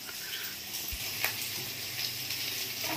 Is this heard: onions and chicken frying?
yes